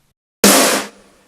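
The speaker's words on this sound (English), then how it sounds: "It's just a pretty standard 80s rock snare." A single loud 80s rock snare drum hit with a bright, washy reverb tail that fades out within about half a second.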